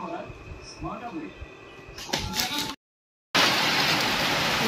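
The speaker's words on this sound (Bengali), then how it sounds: "দেখো এখন হচ্ছে প্রচণ্ড পরিমাণে বৃষ্টি" Heavy rain falls in a village in the Andaman Islands, first as a quieter backdrop under a talking voice, then after a sudden cut as a loud, dense, continuous roar.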